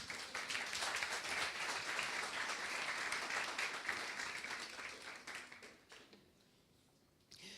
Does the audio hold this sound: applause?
yes